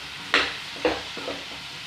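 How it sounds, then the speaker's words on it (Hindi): Chopped tomatoes are stirred in a cooking pan on a home stove, two or three brief scraping strokes over a faint sizzle, close and fairly quiet. "टमाटर डाल के इसको थोड़ा चला के ढक देना है।"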